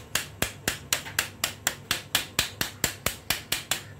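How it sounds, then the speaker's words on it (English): Light rubber hammer tapping a part while stripping the rear wheel and swinging arm of a Lexmoto 125cc motorcycle, with about fourteen sharp, evenly spaced taps at a steady rhythm, close by, with no talking. "like so, and then give it a gentle tap."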